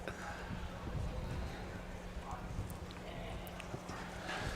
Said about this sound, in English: The horses are out starting to get ready for the 7th.